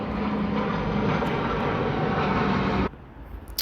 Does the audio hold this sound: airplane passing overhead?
yes